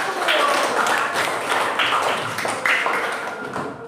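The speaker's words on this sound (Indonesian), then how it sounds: "tepuk tangan dari kelompok 1." A group of people clap together in a steady, dense patter of applause lasting several seconds, fairly close and even in loudness.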